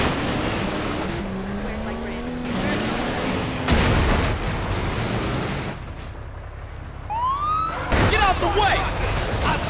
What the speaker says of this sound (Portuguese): O áudio da sirene das polícias